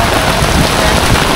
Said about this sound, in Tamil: சட்டியான மழை வந்துருச்சு